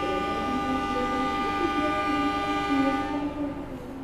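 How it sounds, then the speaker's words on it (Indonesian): A Doho commuter train leaves a station on the Surabaya Gubeng to Blitar line via Kertosono. Its horn holds a long, steady multi-tone blast over the low rumble of the rails, then tapers off near the end. "Kereta Dohonya berangkat duluan ya"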